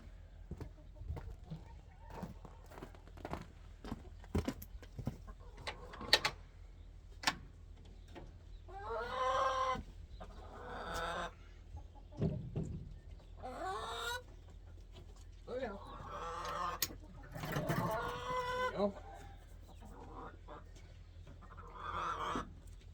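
Chickens cluck and murmur close by during a morning feeding, with repeated clucks and a few louder squawks over scattered ticks and taps, and some indistinct human voice mixed in.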